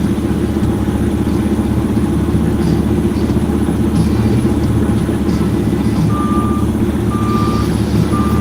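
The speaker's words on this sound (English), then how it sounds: "I'll back up and get the truck started here." A truck backing up with a steady repeating backup beeper that becomes clear in the later seconds, over a loud continuous engine rumble, with no talking.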